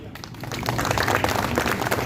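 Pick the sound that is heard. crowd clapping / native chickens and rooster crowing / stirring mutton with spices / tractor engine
crowd clapping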